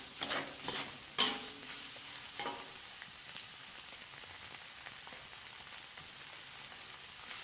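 Rice and pork being stir-fried in a preheated wok, a few sharp scraping clatters of a spatula at the start over a soft, even sizzle that settles into a quieter hiss, with no talking.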